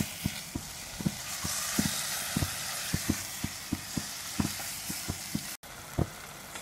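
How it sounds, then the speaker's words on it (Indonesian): Minced meat for lasagna fries in a pan under a constant sizzle, while a spatula stirs and taps against the pan in quick, fairly regular clicks, close and clear. "Aduk hingga daging matang"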